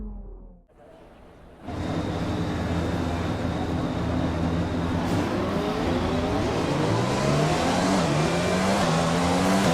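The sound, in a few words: race car engine revving at practice start, F1 2020 video game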